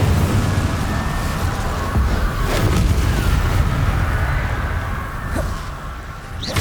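Fiery blasting-spell explosions from the Hogwarts Legacy game, one after another in a dense, loud battle, with booming bursts and crackling debris over a constant roar, sharper blasts landing around the middle and near the end.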